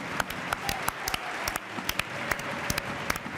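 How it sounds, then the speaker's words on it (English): A football stadium crowd applauds as a Barcelona player walks off the pitch, a distant, steady wash of clapping with scattered sharper claps throughout. "Round of applause, guys."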